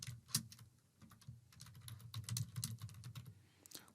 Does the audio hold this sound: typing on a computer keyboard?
yes